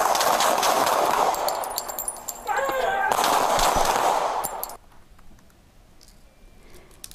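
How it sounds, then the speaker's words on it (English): Rapid bursts of gunfire from a deputy-involved shooting in San Andreas crackle loudly amid a noisy, busy scene, then cut off, leaving quieter background noise with faint scattered clicks. "the gunfire, as you hear them shooting the shots right there"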